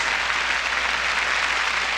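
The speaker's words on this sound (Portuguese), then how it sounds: "Uma salva de palmas para Jesus, o Rei dos Reis, o Senhor dos Senhores." A church congregation claps steadily throughout, a dense even wash of applause from a large crowd at a moderate distance, with no talk heard over it.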